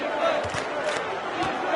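Chicago Bulls fans roar in the arena during a 1992 NBA Finals game against the Portland Trail Blazers, a steady, dense wash of crowd noise with scattered shouts throughout.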